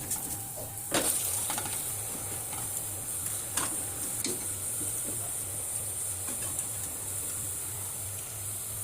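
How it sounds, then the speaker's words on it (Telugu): Raw mutton, a kilogram of it, sizzles in a pan of browned frying onions, a steady close hiss broken by a few scattered clicks and scrapes of stirring. "నేనైతే ఇలా పచ్చి మటన్ వేసేస్తాను."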